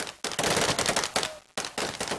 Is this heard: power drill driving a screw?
no